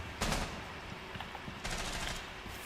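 Gunfire in Rainbow Six Siege ranked multiplayer, two loud close bursts of rapid shots separated by a quieter stretch of scattered clicks and movement.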